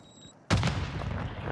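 One sudden loud gunshot in the video game Warzone 2 breaks a near-silent moment, then a booming, rumbling echo and follow-up fire fill the rest of the short stretch.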